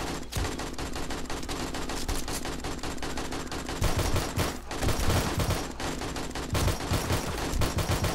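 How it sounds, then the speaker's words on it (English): Rapid, continuous gunfire from shooting in the video game 7 Days to Die during a night horde attack, dense repeated shots rattling steadily and loudly with brief pauses. "I need to be careful shooting down here because I'm hitting the plates"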